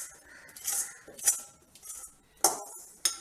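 Ragi flour being moved from a hot pan into another vessel, heard as a few scattered metallic clinks and scrapes of a spoon against the pots, close and fairly quiet.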